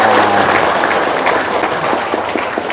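Audience applause at a religious gathering with two ustads, a steady wash of clapping from a crowd, loud and sustained, with a voice briefly heard at the start.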